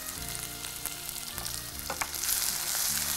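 Onions sizzle and fry steadily in a pan as tomatoes go in, with a few sharp stirring clicks and a louder burst of hissing near the end, close and continuous with no talk.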